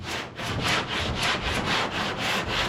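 Car body filler is sanded by hand with sandpaper, a close, loud rasping rub repeating in even back-and-forth strokes about twice a second.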